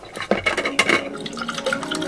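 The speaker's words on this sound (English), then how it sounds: "I'm pouring water from the fridge into my tumbler cup" Cold water from the fridge pours into a tumbler cup, a close, continuous trickle and splash with small drips and light clinks against the container.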